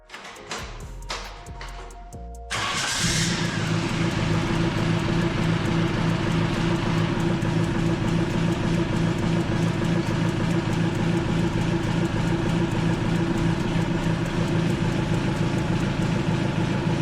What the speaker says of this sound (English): I started it up and wanted to take it for a drive